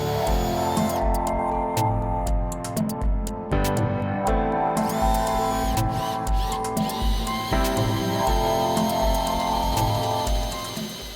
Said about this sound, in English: make a series of drill holes down the line you drew earlier